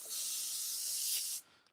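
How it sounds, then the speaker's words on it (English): Water sprays in a steady, bright hiss from a pen-making workshop sprayer for over a second, then cuts off abruptly, close and fairly loud. "We're spraying water."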